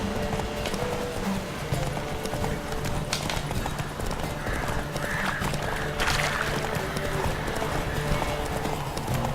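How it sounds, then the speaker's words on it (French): Horse hooves clip-clop in a steady galloping rhythm during a race in The Witcher 3, with occasional whinnies over a continuous game soundscape, fairly loud and sustained throughout. "petite course à cheval"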